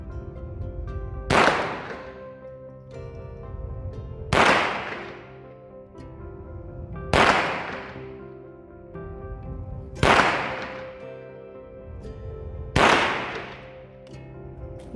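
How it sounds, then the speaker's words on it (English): Five evenly spaced gunshots ring out from a firearm fitted with a CVLife multi-reticle red dot optic aimed at a target. Each sharp crack is followed by a fading echo. "We're going to start with 5 rounds on the top left target."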